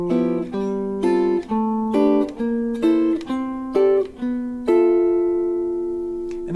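Jazz guitar chord exercise with each chord plucked by the pinky of the picking hand: a steady sequence of ringing chords, each struck once with short gaps between, played alone and close with the final chord left to sustain.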